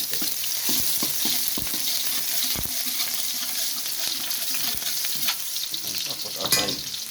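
Chopped onions sizzle steadily in hot oil, with a spoon or spatula scraping and stirring through them in several distinct strokes; a louder burst of sizzle comes near the end.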